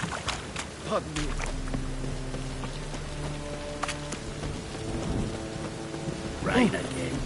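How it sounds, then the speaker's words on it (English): Rain patters steadily in the fantasy game Witcher 3, with a low roll of thunder beneath and characters' voices speaking over it. "Rain again."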